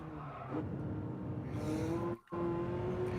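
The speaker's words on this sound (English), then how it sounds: "This is definitely a sports car." A sports car engine in the Gran Turismo video game, holding a steady high revving tone that climbs as it accelerates, with a brief cut-out before resuming.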